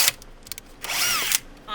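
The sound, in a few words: power drill drilling pilot hole in Ford Mustang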